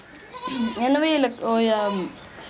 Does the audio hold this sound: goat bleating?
yes